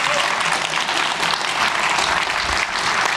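A theatre audience at a season presentation applauds, a dense, continuous wash of clapping from many hands that stays loud and even throughout, with no talking over it.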